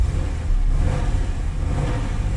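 A 3.8L V6 in a fourth-generation Chevrolet Camaro with a front oil leak revs with a steady, close, rumbling roar that holds strong for a couple of seconds.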